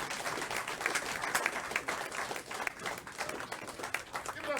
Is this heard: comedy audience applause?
yes